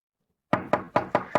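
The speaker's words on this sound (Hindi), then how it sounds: "कोई दरवाजा खटखटा रहा है।" Five evenly spaced knocks on a door follow a moment of silence, each a firm, close thud with a short decay and no voices.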